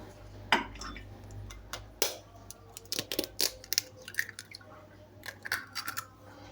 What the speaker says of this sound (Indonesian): di sini saya akan pecahkan telur ya teman-teman ya